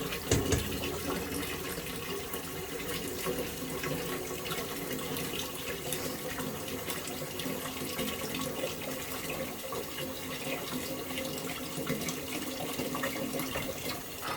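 Steady cold running water pours from a tap without a break, a continuous close splashing hiss that stays level throughout.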